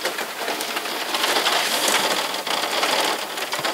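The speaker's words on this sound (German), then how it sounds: "Jetzt fängt es an zu regnen." Rain starting in the FIFA 20 video game: a dense, steady hiss of falling rain pattering on a surface, loud and continuous throughout, with no voices over it.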